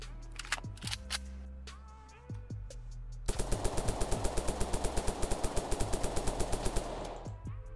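Modded AK-74 rifle in the game Unturned fires a steady fast burst of about twenty loud, evenly spaced shots after a few scattered single reports and clicks.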